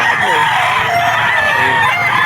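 An 18-month-old bullstag rooster crows loudly and close by at a Bocaue pet market, one long sustained call over a steady background of other birds.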